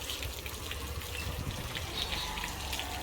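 Water runs steadily from a tap as hands are washed, a continuous close gushing and splashing with no pauses.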